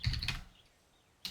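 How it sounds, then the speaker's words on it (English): Typing on a computer keyboard at a desk during a World of Warcraft Classic session, a short cluster of clicky keystrokes up front, then a pause and one more sharp key tap at the end, fairly close. "Man, I am not typing well."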